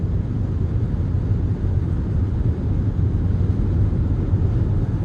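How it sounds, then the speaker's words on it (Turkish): Constant low roaring rush of wind and road noise inside a Togg T10X car at about 186 km/h on a motorway in windy weather, steady and loud throughout with no breaks. "Rüzgar sesleri biraz artmaya başladı ama bunlar da gayet normal"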